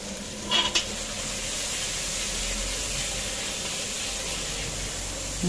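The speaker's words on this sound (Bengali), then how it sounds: "এবার আমি হলুদ গুঁড়ো, লঙ্কার গুঁড়ো, পরিমাণ মতো নুন, স্বাদ মতো চিনি দিয়ে কষিয়ে নেব।" Turmeric, chili powder, salt and sugar fry in a pan with a continuous, even sizzle and hiss, with a few brief clatters of stirring near the start.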